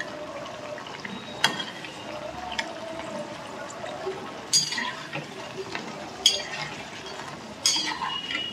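Pakoras fry in hot oil in a Bengali home kitchen, giving a low steady bubbling hiss with a few sharp clinks and scrapes of a utensil against the pan at intervals.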